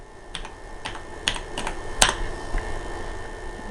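Keys clack on a 1987 Toshiba T3200 laptop keyboard, a sparse, uneven series of crisp, fairly close strokes with one sharper hit in the middle, over a faint steady hum.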